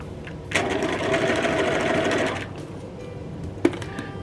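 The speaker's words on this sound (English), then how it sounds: "And just stitch along there. Make sure that's sewing." A sewing machine stitching a T-shirt, a steady fast mechanical whir running for about two seconds, then stopping, followed by a faint click and a quiet background.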